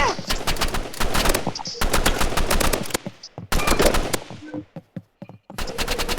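Rapid bursts of gunfire in the Roblox Rivals shooter game crack out in dense clusters, separated by short pauses and a few single shots, loud and close.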